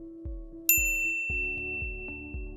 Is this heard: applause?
no